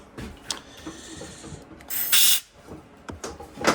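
Compressed air blasts through the parts of a Husqvarna K760 cut-off saw during repair, a loud broadband hiss peaking in one strong burst with shorter puffs around it, close up and without talk.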